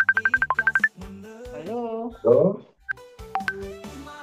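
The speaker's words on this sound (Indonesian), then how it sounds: "Teleponnya siapa?" A telephone rings in a room during an Indonesian stock-trading livestream: a rapid electronic trill pulses at the start and brief chirps follow, mixed in with close conversational speech.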